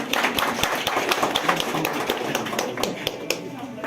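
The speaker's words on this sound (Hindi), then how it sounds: "एक बार सर के लिए तालियां जोश के लिए" An audience in a museum gallery claps enthusiastically for a guide, a dense patter of many hands close by with voices mixed in.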